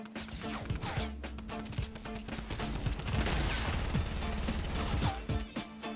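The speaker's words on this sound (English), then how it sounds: "Why you gotta fire rockets, bro?" Rockets and gunfire in a video game fire repeatedly in a busy, continuous barrage of blasts and impacts, fairly loud, with no talking.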